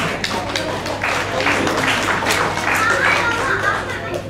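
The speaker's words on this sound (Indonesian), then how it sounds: "bagilah tepukan gemuruh untuk drama berirama" Parents applaud at a kindergarten concert, a dense, continuous patter of many hands clapping at close-to-mid distance, with children's voices and chatter mixed in throughout.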